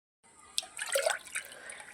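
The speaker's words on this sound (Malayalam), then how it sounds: "നമുക്കിതിലേക്ക് വെള്ളം ഒഴിച്ചു കൊടുക്കാം" Water poured into a cooking pot for coconut rice makes a short, close splashing pour lasting about two seconds, moderately loud, with no talking.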